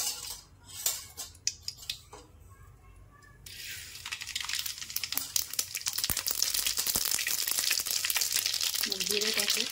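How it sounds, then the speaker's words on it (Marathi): Mustard seeds hit hot oil and burst into a loud, dense crackle and spatter that builds and keeps popping after a few quieter clinks and scrapes at the start. "सर्वात आधी आपण मोहरी टाकू."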